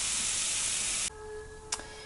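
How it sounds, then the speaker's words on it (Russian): Carrots frying in a pan toward a golden crust, a steady broad sizzling hiss that cuts off abruptly about halfway, leaving a faint tonal hum and one short sharp burst near the end. "Обжариваем морковку до золотистой корочки."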